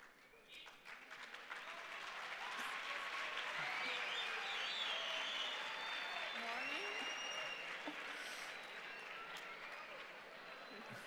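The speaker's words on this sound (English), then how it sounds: "What's the cheering for?" An audience at an industry keynote on enterprise digital transformation cheers and applauds, sustained dense clapping with whoops that swell and hold loudly for several seconds.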